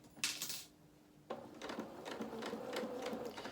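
Sewing machine chain stitching the seams of a doll's pinafore: a short whirring burst, a pause, then a longer steady run of rapid mechanical stitching, close and alone.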